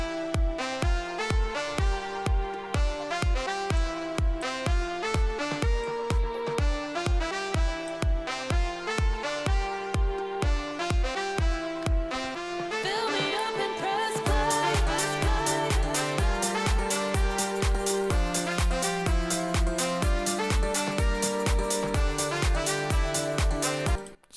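Remix drop built from layered Serum synths with the bass removed, a loud, steady pulsing chord pattern with bright stacked layers, briefly thinning near the middle before returning fuller and denser, no voices.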